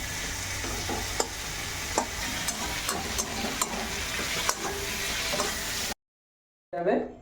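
Onion and tomato frying in a pan: a steady sizzle with scattered clicks and scrapes of a spatula stirring, then a brief silence followed by a short burst of sizzling.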